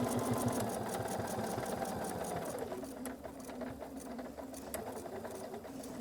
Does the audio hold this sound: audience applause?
no